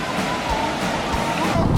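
Waterfall heard as steady broadband rushing water, constant and fairly loud throughout, with a faint voice briefly under it.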